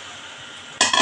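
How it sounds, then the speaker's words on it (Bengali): Kasundi hilsa curry with water added is stirred in a pan. A steady faint simmer gives way, after a pause, to a sudden loud burst of scraping and sizzling stirring near the end. "আমি একটু নেড়ে দিচ্ছি।"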